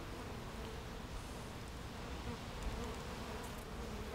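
A dense, steady hum of many honey bees buzzing close by around an open hive, a continuous drone with no pauses.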